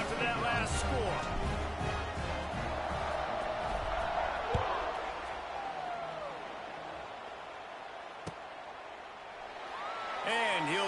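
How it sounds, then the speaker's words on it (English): Stadium crowd noise from the College Football 26 video game, a Kent State matchup, buzzing as a steady loud roar of many voices throughout, with whoops and a sharp thud midway, under continuous play-by-play commentary. "this crowd is buzzing after that last score."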